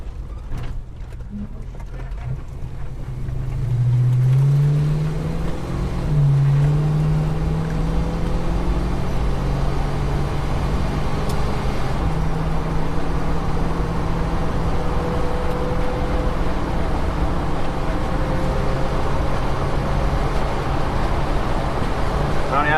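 A Holden HK car's engine drones steadily at around 60 mph and just under 3,000 rpm, a continuous loud hum with road and wind noise as it builds speed from the start and then holds a constant pace.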